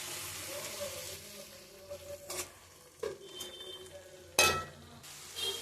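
Egg sukka gravy with fennel and pepper powder gets stirred in a pan: quiet sizzling broken by several sharp scrapes and clinks of a spoon against the metal, irregular and close.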